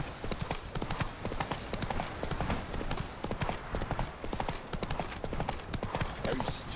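Steady clip-clop of Roach the horse's hooves in The Witcher 3, a continuous rhythmic trot at close range, with game ambience and faint voice-like sounds mixed in.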